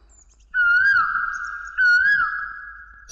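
An Asian koel calls twice in a film scene, each loud rising, whistled note repeated in quick succession, clear and alone with no talk over it.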